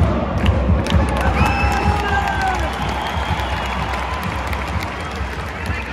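A record-breaking crowd at Celtic Park roars and cheers for a women's football match, a dense, continuous wall of stadium noise with chanting voices rising above the din.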